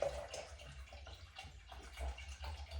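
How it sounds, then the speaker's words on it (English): Saratoga spring water is poured slowly into a container, a soft continuous trickle with faint splashy pulses, quiet and close. "pour that in slowly, you don't want the splashes"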